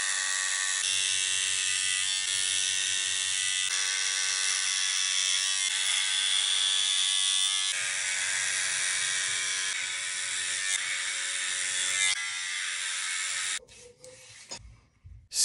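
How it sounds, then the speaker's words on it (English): An electric hair trimmer shaves a head with a steady, close buzzing whir that holds for about thirteen seconds, then cuts off abruptly near the end. "Hair trimmer."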